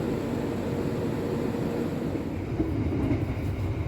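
The Argo Merbabu passenger train rolls along the rails, heard from inside as a steady low rumble with faint rhythmic clatter and no speech.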